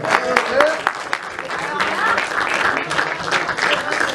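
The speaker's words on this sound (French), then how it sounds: "Applaudissez-la, s'il vous plaît" An audience at a film premiere claps for an actress being introduced. The applause is moderately loud and uneven, with voices and cheers mixed in with the clapping.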